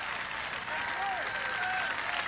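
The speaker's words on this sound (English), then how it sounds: "Crowd appreciating a nice long rally" Spectators at a 1988 AVP beach volleyball final in Milwaukee applaud a long rally with steady, dense clapping and crowd noise throughout, while a commentator's voice runs faintly over it.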